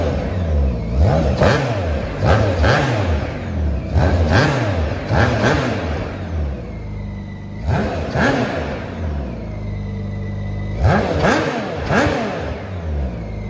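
A Campagna T-Rex 16SP three-wheeler with its chain-driven BMW engine fires up and is revved repeatedly, giving sharp rising and falling howls in bursts separated by short idle pauses, loud and close with no talk.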